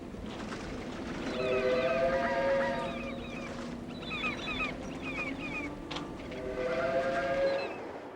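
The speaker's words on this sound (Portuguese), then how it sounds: "Este trem de carga transporta uma expedição de combustível irradiado, proveniente de uma usina nuclear." A freight train hauling a shipment of spent nuclear fuel from a nuclear power plant, its sustained whistle-like tones and squeals rising and falling over a steady rumble, moderately loud and continuous with no talk.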